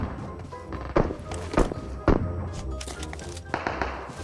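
Gunfire in the PUBG Mobile battle royale on the Erangel map: a few heavy, thumping shots spaced irregularly in the mix, with others blurred under the game's background sound and ambience.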